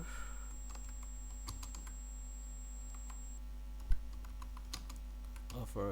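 Typing on a computer keyboard, with a quick, irregular run of light key clicks and one sharper tap, close and fairly faint over a low steady hum.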